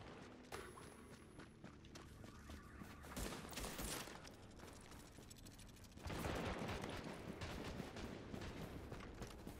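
Gunfire in Tom Clancy's The Division rattles in bursts and volleys, mixed with mechanical clicks and a few footsteps, rising into heavier sustained shooting partway through.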